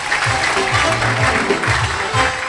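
Congregation in a church applauding together, a loud, steady wash of clapping with a low rhythmic beat underneath, filling the room.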